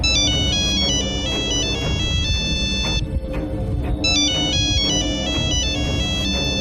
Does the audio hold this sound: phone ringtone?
yes